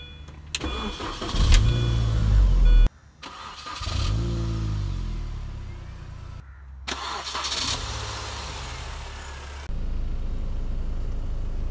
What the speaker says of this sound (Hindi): अब हम गाड़ी को स्टार्ट कर लेते हैं।